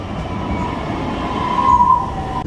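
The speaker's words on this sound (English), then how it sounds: "Now to ride some more trains!" A Dallas rail transit train rolls with a steady, close rumble, and a thin high-pitched squeal rises briefly near the end. No one speaks.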